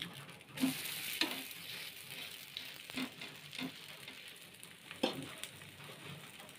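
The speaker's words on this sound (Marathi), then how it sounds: "हे दोन्ही साईडून चांगले शेकलेले आपले थालीपीठ चांगले शेकून घ्यायचं" Thalipeeth flatbread roasting on a hot pan, giving a faint continuous sizzle with a few sharp spatula taps and scrapes spread through.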